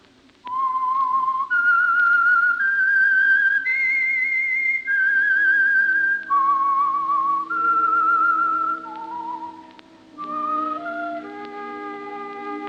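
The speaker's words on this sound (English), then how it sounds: "That whistle is your signal for the Signal Oil program, The Whistler." A lone person whistles the eerie theme melody of the old radio mystery program The Whistler: a clear, sustained tune of gliding notes with a backing accompaniment entering near the end, close and prominent.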